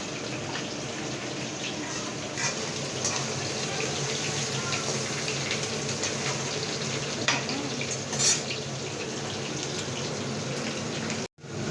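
Onions frying in oil for biryani, a steady close sizzle with a continuous watery hiss throughout and a few faint clinks, ending abruptly.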